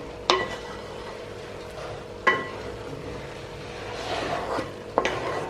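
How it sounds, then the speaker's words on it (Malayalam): Chicken biryani rice is stirred gently from the sides of a pot, with soft scraping and three distinct sharp clinks of the spoon against the pot, spaced a couple of seconds apart. "സൈഡിൽ നിന്നൊന്ന് ഇളക്കി കൊടുക്കാം"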